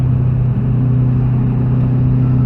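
Car engine held under steady throttle while drifting, a loud, sustained droning rumble with a strong low hum that holds nearly constant throughout.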